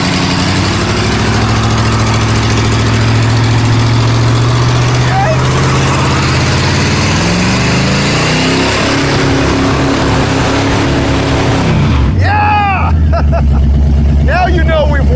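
A 1968 Mustang Mach 1 engine roars and revs hard during a burnout, its pitch climbing and falling, with a crowd's chatter and cheering in the background.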